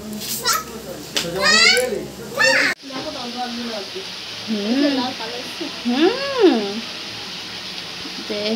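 Chicken frying in a pan at home, a soft continuous sizzle running beneath lively children's chatter and a voice, with the talk clearly louder than the cooking.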